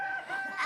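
A chicken gives a brief, short clucking call at a farm, heard faintly and alone with no talk.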